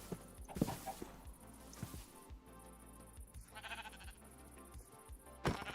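Several short Minecraft sheep bleats sound, spaced irregularly over soft footsteps and faint background tones.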